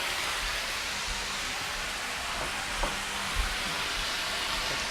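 Pad thai noodles sizzle steadily in a hot pan, a dense even frying hiss with a few soft knocks of spoons stirring them, close and continuous with no talking.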